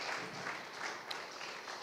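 An audience at a corporate church service claps, a faint, soft patter of hands at a distance.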